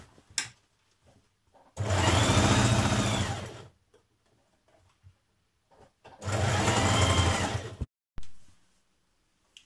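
Sewing machine stitching a skirt seam in two loud, steady bursts of about two seconds each, separated by quiet pauses with faint handling clicks.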